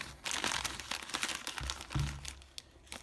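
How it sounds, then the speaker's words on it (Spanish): A plastic bag holding bass guitar strings crinkles and tears open up close, with continuous rustling and a few sharper crunches over three seconds and no voices. "Vamos a abrir la bolsa"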